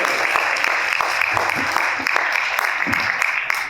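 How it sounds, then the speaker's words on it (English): Audience applause for presenters and panelists at an affordable housing for seniors event, a loud, sustained round of clapping filling the room without pause. "can we give one more hearty round of applause for all of our presenters and panelists today"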